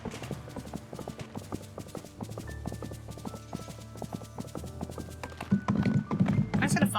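Steady clip-clop of a horse's hooves in Disney Dreamlight Valley, a rapid even trotting rhythm running throughout, layered with game music and growing busier and louder near the end.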